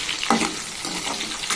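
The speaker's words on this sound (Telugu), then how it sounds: "కట్ చేసి ఉంచుకున్న ఉల్లిపాయలు బాగా దోరగా వేగాలి." Chopped onions fry in a pan with a steady, close sizzle and a few scraping stirs. Nobody speaks.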